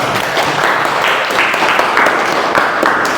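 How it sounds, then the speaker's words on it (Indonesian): A room full of people applauding together, a dense, close burst of clapping that stays strong across the whole moment. "Oke, kasih aplaus untuk kita semua."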